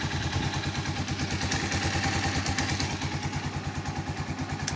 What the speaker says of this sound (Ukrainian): Мотоцикл працює справно.